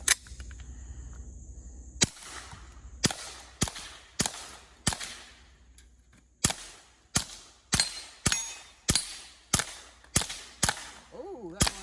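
Suppressed AR22 rifle firing CCI Mini-Mag rounds outdoors, a dozen sharp cracks at a steady cadence of roughly one per second, each closely miked with a short ringing tail.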